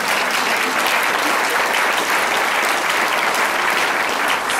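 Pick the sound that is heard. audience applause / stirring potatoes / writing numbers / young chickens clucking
audience applause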